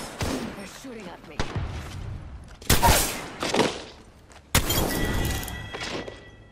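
Loud bursts of video game gunfire erupt in three sharp clusters over continuous game noise, with a ringing tail after the last burst.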